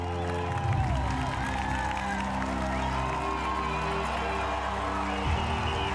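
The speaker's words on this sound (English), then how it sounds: "You can see how energized the crowd are" Spectators at a cycling race cheer, whoop and clap in a steady, energetic roar, with a dense wash of crowd noise running throughout and occasional louder swells.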